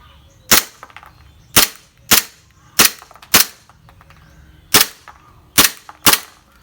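A BB gun pistol fires seven sharp, loud cracks at uneven intervals of roughly a second, each a close snap with a brief metallic tail, with no talking between shots.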